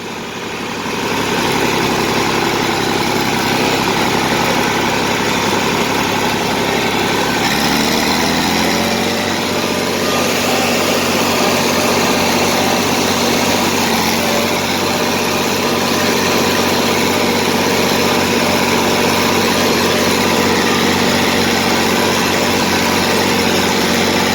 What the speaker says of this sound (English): Let's get the mower on and get something cut today.